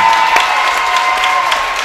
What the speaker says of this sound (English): he gets a standing ovation from Labette County's crowd as Coach Argerbyte eggs him on.